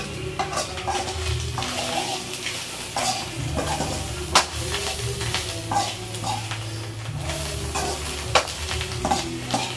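Spiced curry with coriander powder, turmeric and chilli sizzling in a pan while being stirred, a continuous close fry with repeated scraping and clacking strokes of the spoon against the pan.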